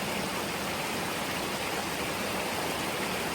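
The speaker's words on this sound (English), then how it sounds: "There it is, Wolf Mountain Falls. A little better flow than I expected" Wolf Mountain Falls, a waterfall in Jackson County, North Carolina, running at low water, pours as a steady, dense broadband rush heard up close, with no voices over it.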